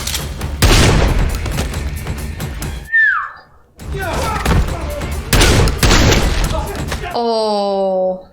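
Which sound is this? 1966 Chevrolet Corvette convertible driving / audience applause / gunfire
gunfire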